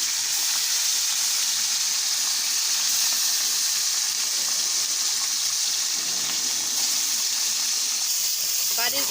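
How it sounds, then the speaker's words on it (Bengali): Poa fish fry in a pan with a steady, bright sizzle and hiss of hot oil that runs continuously and evenly throughout. "পোয়া মাছগুলি ভেজে নিতেছি"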